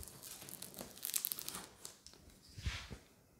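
Packaging of a Block HD-120 Blu-ray player being torn open and crinkled by hand, a quiet, close run of tearing and crumpling rustles with scattered crackles and no talk.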